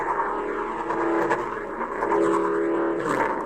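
A custom lightsaber running a deep, throaty soundfont gives off a steady low hum with a rough, growling texture, close and continuous, swelling slightly near the end.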